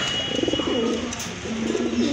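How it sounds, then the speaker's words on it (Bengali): A top-quality pair of Holi Copper pigeons, male and female, coos in repeated throaty low phrases, close and clear, with a faint background hiss and no talking. "এটা টপ লেভেলের হচ্ছে হলিকপার কবুতর"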